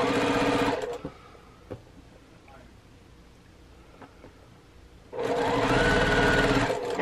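Sewing machine stitching quilt pieces for a quilt-as-you-go Dresden Plate table topper, two loud steady bursts of fast stitching at the start and end separated by a quieter pause with faint handling noises.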